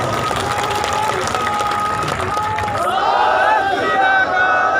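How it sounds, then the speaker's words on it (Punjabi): A large crowd at a roadside protest sit-in in Batala, Punjab, applauding loudly: dense, steady clapping and cheering that fills the whole stretch, with amplified voices and crowd chatter mixed in. "ਬਾਈ ਦੀਪ ਸਿੱਧੂ ਦੇ ਨਾਂ ਤੇ ਜ਼ੋਰ ਦੀ ਤਾੜੀ ਮਾਰ ਦਿਓ"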